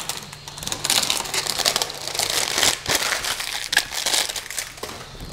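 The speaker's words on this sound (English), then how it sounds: "Let's peel off the sticker and level the bed" Protective sticker being peeled off the bed of a Creality CR-6 SE 3D printer, a close, continuous crinkling and tearing rasp with small irregular crackles.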